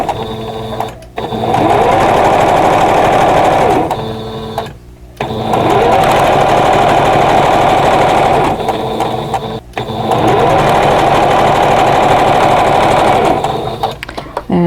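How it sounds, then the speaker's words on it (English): A sewing machine stitching quilt block pieces together, three long bursts of rapid, steady mechanical whirring separated by brief pauses, loud and close with no talk. "now I'm going to sew the third and fourth piece of each row"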